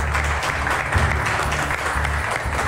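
An audience at a televised Marathi cooking competition show bursts into loud, sustained applause, dense clapping that holds steady for the whole stretch.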